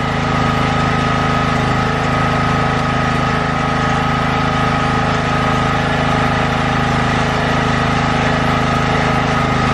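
A petrol generator engine runs steadily at medium throttle while warming up, a loud, close, continuous mechanical drone with no talking over it.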